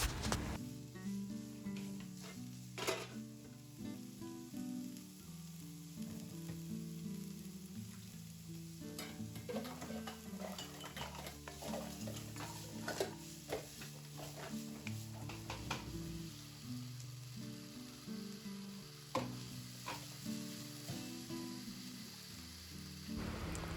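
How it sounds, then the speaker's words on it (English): Fried brown rice with seasonings is stirred in a pan, a soft sizzle with intermittent spatula scrapes and taps sitting under quiet background music throughout. "She add the seasonings to the right taste that she wants. You can also do that to the right taste that you want. Continue mixing everything."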